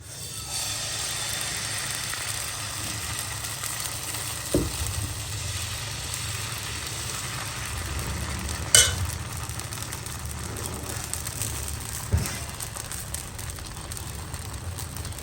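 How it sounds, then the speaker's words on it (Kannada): Dosa batter sizzles on an oiled pan with a steady hiss and crackle, joined by a low background hum and a few sharp clinks and taps. "ಸ್ವಲ್ಪ ಎಣ್ಣೆ ಹಾಕ್ಕೊಂಡಿದ್ದೀನಿ ಈಗ ದೋಸೆ ಹಾಕೋಣ"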